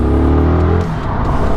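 Motorcycle still in its break-in period, run in Sport mode, accelerating hard: a loud, close engine note rising steadily in pitch for most of the pass, then dropping briefly as it shifts and keeps pulling, with no voices.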